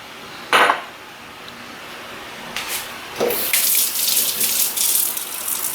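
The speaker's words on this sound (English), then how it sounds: "I'm going to add in a little bit of water to this" Water poured into a bowl in a home kitchen, a brief splash near the start, then a steadier running, splashing stream that grows fuller toward the end.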